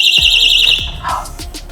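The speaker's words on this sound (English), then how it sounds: "it has a very loud alarm." A hotel room's sliding balcony door alarm at an oceanfront all-inclusive resort in Aruba sounds as a loud, shrill, warbling electronic tone that cuts off after under a second, followed by clunks and rattles.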